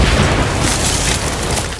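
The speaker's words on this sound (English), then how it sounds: "After the mine is detonated," A heavy anti-tank mine blast in a war film gives a loud, sustained rumbling boom that fills the whole stretch without a break.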